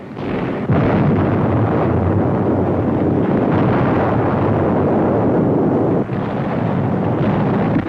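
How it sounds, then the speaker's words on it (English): American artillery fire over Germany in a World War II newsreel; a dense, loud roaring rumble of blasts and booms fills the whole stretch, with one brief dip before the barrage surges on. "Enemy communications are torn to pieces by American artillery and daring flyers who dominate the skies over Germany."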